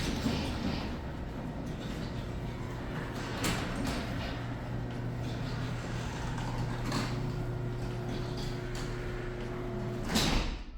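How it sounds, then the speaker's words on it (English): Residential garage doors slide closed with a steady mechanical rumble and hum that runs for about ten seconds, ending in a clunk as they shut. "I'm gonna shut the garage doors here"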